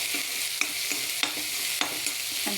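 Paste of garlic, green chili, ginger, cumin and a little coriander frying in a pan, a steady close sizzle broken by several sharp clinks and scrapes of stirring at irregular intervals, with no talk.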